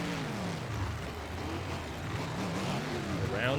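Racing trucks from a try-out event in Paxton, Illinois roar down the straight after leaving the line, a steady loud engine drone with rising pitch near the end, slightly distant.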